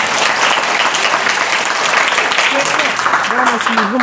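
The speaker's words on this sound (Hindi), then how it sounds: "भाई जोरदार तालियां इनके लिए" Loud, sustained applause from an audience at a farewell day award ceremony in an educational institute, a dense steady wash of clapping with voices and a few whoops rising toward the end.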